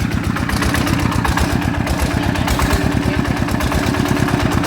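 A motorcycle engine idles steadily and loudly at close range, its gears giving off a noisy mechanical clatter over the rapid low thrum, with no talking.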